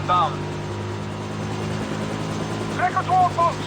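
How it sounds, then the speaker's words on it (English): Helicopter engine drone from the James Bond 007 Blood Stone video game, a steady low rotor hum running throughout beneath shouted voices and chirping tonal game sounds. "Helicopter inbound."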